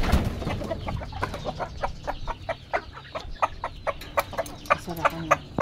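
Several chickens cluck repeatedly in short, sharp bursts nearby, an irregular busy chatter over a faint background rustle.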